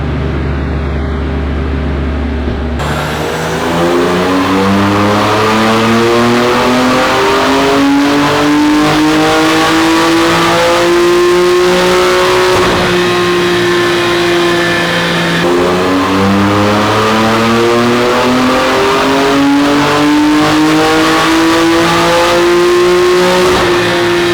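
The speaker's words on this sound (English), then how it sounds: "But Tommy's car on a dyno, we're gonna do some baseline hits, see what it makes." A loud BMW F80 M3 engine revs and holds high on a chassis dyno, rising pitch climbing steadily, then drops and climbs again in a second sustained pull, close and continuous.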